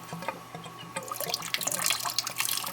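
Water draining from a leaking three-year-old basement boiler, a close, splashy trickling and gurgling flow that grows busier partway through, with no talking.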